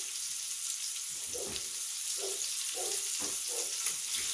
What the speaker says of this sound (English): You want them a nice golden brown. You want them seared.